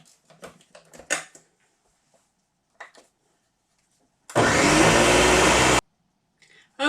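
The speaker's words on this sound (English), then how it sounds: "I took it off the blender." A Ninja blender mixes crustless pumpkin pie ingredients in one loud, steady, roughly one-and-a-half-second whir that starts and stops abruptly. Quiet kitchen clatter and handling noises come before and after it.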